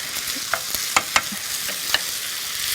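Shrimp pilaf fries in butter in a pan, a continuous bright sizzle punctuated by several distinct spoon clicks and scrapes against the pan.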